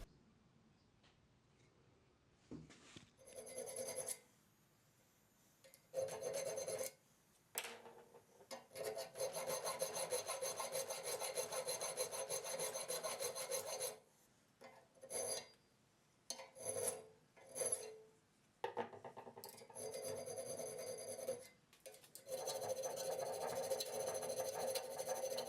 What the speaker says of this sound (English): use files to square up those shoulders and thin out the tang area